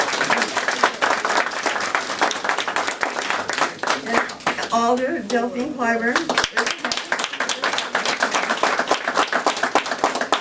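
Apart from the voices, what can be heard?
audience applause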